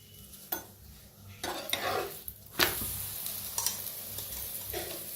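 Chapati cooks on a hot griddle with oil, giving a soft sizzle under a few scraping and flipping knocks, one sharper clatter midway, fairly quiet and close.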